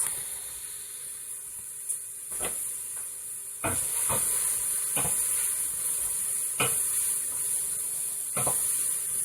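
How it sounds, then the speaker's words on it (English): Onion, celery, garlic and ginger soften in a soup pot, a faint steady hiss of cooking punctuated by several sharp clicks and taps spaced irregularly, quiet and without voices. "So you can hear our vegetables starting to cook behind"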